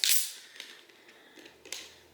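A can of Pepsi Zero Sugar snaps open with a sharp crack and hiss, followed by faint fizzing and a second softer click, close and quiet with no talk.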